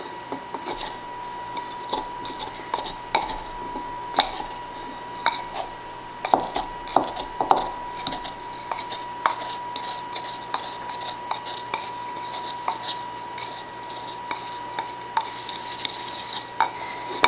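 Garlic is ground together with herbs and spices as a rub for an oven-roasted pork loin, giving a steady run of gritty scraping strokes and small clicks at moderate volume, with no voices.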